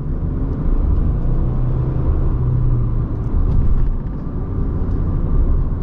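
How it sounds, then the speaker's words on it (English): A Subaru Crosstrek Wilderness with a CVT drives along, heard from inside the cabin as a steady, fairly loud low rumble and road drone that holds even for about six seconds, with no one talking. "CVT is doing its thing, keeping it nice and quiet."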